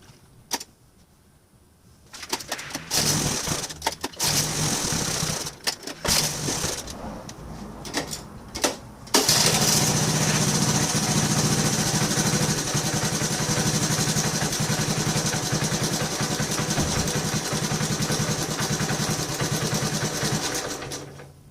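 A Honda ATC 110 all-terrain three-wheeler under repair runs its small engine loudly and continuously, sputtering in uneven bursts at first and then settling into a steady, rough close-up drone.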